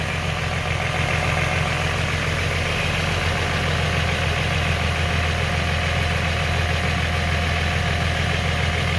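A Nissan 350Z engine idles steadily after an oil change with a K&N HP-1010 oil filter fitted, giving a constant low hum with a mechanical whirr and no talk over it.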